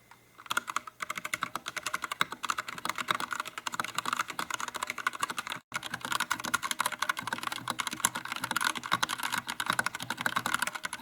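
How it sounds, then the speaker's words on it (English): Fingers type on a Bluetooth mechanical keyboard in a continuous, fast stream of crisp key clicks, close and fairly quiet, with one brief pause midway and no voices. "I can also just continue to type along, writing things out"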